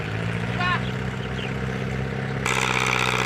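A Kubota SP engine mounted on a nearly new Tra Phet rotary tiller runs close by with a steady droning hum, and a harsher, louder whirring layer joins near the end.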